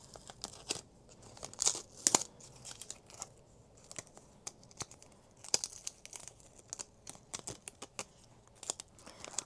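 Pre-cut stickers peeled off a sticker sheet, a series of soft crinkling, tearing peels and light paper rustles arriving in irregular bursts, close and fairly quiet, with no talking.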